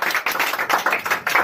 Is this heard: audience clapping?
yes